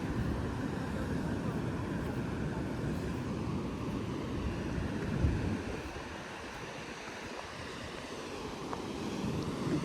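Sea waves at Diveagar beach give a continuous, steady wash of surf with wind noise across the microphone. The waves sound close and broad, and no voices are heard.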